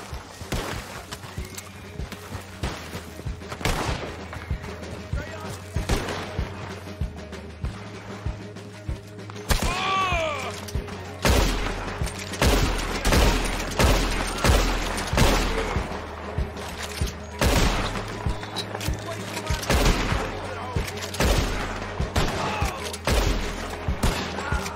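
Gunfire in a Wild West video game, sharp shots scattered irregularly across the scene with bursts of game sound between them, while voices talk over the action.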